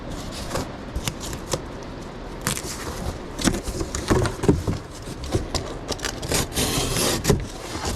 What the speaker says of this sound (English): Okay, it's raining. Y'all can hear it.